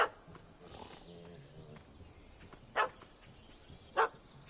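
A puppy in The Witcher video game, set around a bar, barks in two short, sharp bursts spaced about a second apart over a low murmur of background voices.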